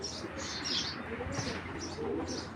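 A racing pigeon at a loft coos softly in a few short repeated phrases, with light chirps and rustling around it, quiet and fairly close.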